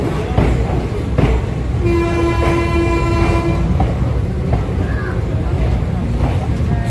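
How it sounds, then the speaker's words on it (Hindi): Saharsa–Jamalpur passenger train 05509 departs Sonbarsa Kachahri station amid a loud, constant rumble, a sustained horn blast sounding for a couple of seconds over the noise. "अब हमारी ट्रेन सोनबरसा कचहरी से डिपार्चर ले रही है"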